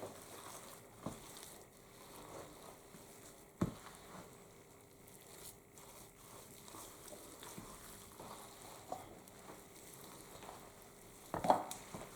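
Quiet stirring of a Southern cornbread dressing mixture with sweet Italian sausage, made up of soft, wet, irregular scrapes and a few sharper knocks of the spoon against the bowl.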